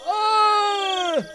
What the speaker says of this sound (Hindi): फिर कुछ देर तहखाने से मूसा के चीखने चिल्लाने की आवाजें आती हैं